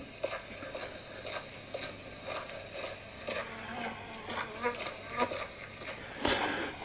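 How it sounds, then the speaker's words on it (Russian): Flies buzzing: faint, continuous insect drone with small wavering surges and occasional light ticks, close but quiet against a soft background. "Так, мухи прилетели"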